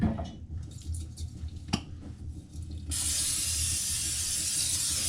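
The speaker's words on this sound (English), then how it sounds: "And we're going to spray it with some oil." Cooking oil sprayed from a can into a heated non-stick pot on a stove at medium-high heat, a sudden steady close hiss starting partway through and holding evenly to the end, after a quieter stretch of soft handling sounds.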